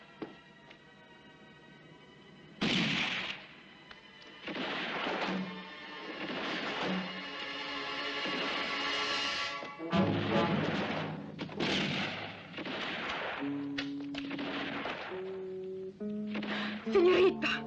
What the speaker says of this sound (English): we'll keep firing to distract them